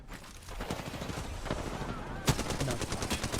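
Rapid automatic fire from the Flatline assault rifle in Apex Legends, a dense loud burst of shots with a sharper crack near the middle, continuing steadily over game noise.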